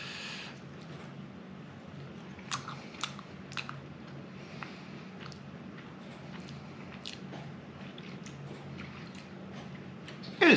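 Biting and chewing meat-free smoked soya bacon-style rashers, a few soft close crunchy bites and chews over a steady quiet room background, with no talking.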